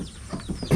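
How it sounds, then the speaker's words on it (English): A mother hen clucks in a farm barnyard while chickens gather for scraps, a few short soft clucks close by, the last one louder. "The chickens are gathering around, trying to get the scraps. This is a mama hen."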